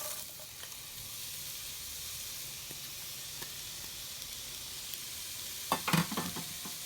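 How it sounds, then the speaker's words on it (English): Onions sizzling in olive oil in a pot for chicken noodle soup, a steady bright frying hiss throughout, with a few louder crackles and clinks near the end. "Onions go in, and it should sound like this."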